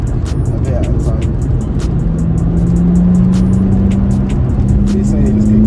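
A VW Polo GTI with a 1.8-litre engine pulls steadily in fourth gear from around 2,000 rpm, a loud, droning interior engine note that rises gradually in pitch, heard under ongoing conversation in the car.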